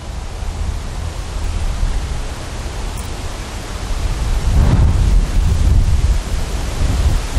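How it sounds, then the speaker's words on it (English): Strong hurricane wind roaring continuously, loud and close, with a broad rushing noise that swells into heavier buffeting gusts in the second half. "That's how strong the wind is."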